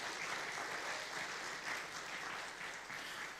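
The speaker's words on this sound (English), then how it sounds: "Give them a round of applause." A church congregation gives a faint, distant round of applause, a soft steady patter without voices.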